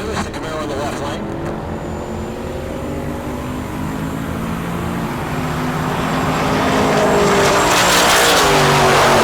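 A Camaro drag racing down the strip at Heartland Park Topeka during Rocky Mountain Race Week, its loud engine roar building steadily and rising in pitch as it pulls away, with an announcer talking over it.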